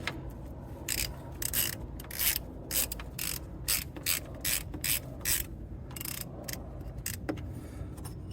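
A ratchet wrench turns 14mm bolts on an excavator carrier top roller, giving repeated short bursts of close, crisp clicking in an even back-and-forth rhythm, with no talking.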